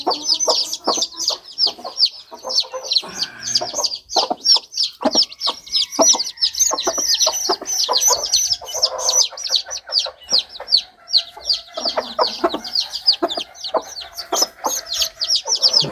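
Two hens lead a group of six chicks, clucking repeatedly and loudly up close, with rapid high chick peeps chirping continuously throughout.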